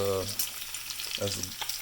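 Steady crackling sizzle of bacon deep-frying in a pool of hot grease at medium to medium-high heat, broken by short tonal bursts of another sound.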